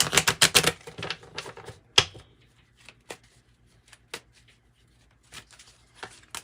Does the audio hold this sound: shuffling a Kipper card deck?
yes